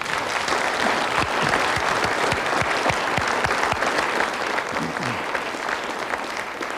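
A studio audience at a French television sports-tribute program bursts into sustained applause, a dense, even roar of many hands clapping that holds steady and loud throughout with no talk over it.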